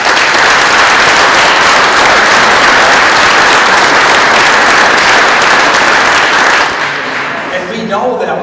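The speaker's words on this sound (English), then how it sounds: "let's give a round of applause." Loud, dense applause from an audience at a talk on prison reentry and graduate students, a strong continuous roar of clapping for several seconds that then drops away as a voice begins speaking.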